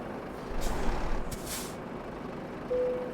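Air brakes on a truck in Euro Truck Simulator 2 give two sharp hissing releases over a low engine rumble as the articulated rig comes to a stop. A brief tone sounds near the end.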